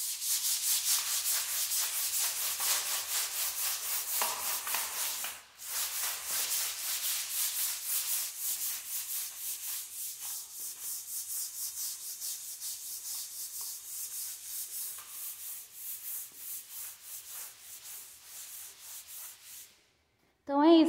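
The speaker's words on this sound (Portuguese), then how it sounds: "E eu vou esfregar pra vocês verem o tanto de espuma que faz." Rhythmic back-and-forth scrubbing of a floor with a homemade cleaning mixture and water, bristly strokes repeating steadily up close, with a brief pause midway and a short stop near the end.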